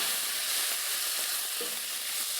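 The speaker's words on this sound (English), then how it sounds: "things are getting quickly roasted in the pan. We add 1 heapful cup of chopped onion." Chopped onion sizzles and roasts in a hot pan, a steady close frying hiss with faint crackles throughout and no talking.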